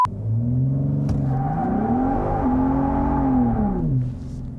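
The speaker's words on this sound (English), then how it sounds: "put my foot down here, you can hear the exhaust sounds so good in this truck" A 2022 Ford F-150 Raptor's twin-turbo engine with aftermarket JDM exhaust accelerates hard in 2-wheel drive, its tone climbing through a gear, dropping and rising again before easing off, loud and steady inside the cab.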